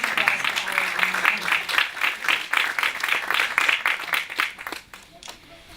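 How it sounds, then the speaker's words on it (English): Audience at a JFK memorial event breaking into a dense round of applause, many hands clapping for several seconds and then fading out. A voice can be heard faintly under the clapping. "Yes, that does deserve applause."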